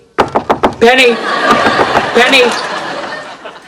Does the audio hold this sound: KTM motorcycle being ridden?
no